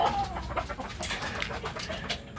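Chickens cluck and peck at food close by, with a busy stream of soft taps and short calls, and no talking.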